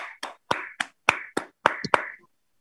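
Children in a preschool class clap together in a quick burst of about eight separate hand claps, close and clear, with no talking.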